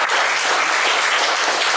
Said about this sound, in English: Let's give Rob a round of applause for his leadership